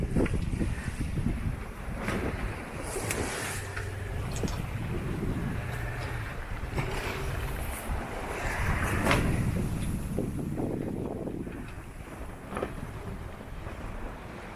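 A sailboat ploughs through waves off the coast between Baiona and Lisbon, with continuous loud wind buffeting the microphone over rushing, splashing water and creaking.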